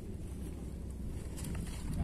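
Steady wind buffets the microphone at a fishing spot by the water, a continuous close rumble with no talk over it.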